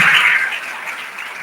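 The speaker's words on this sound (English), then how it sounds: "Another round of applause, please." Applause from an audience at a university matriculation ceremony, loudest at the start and then thinning out, with no speech.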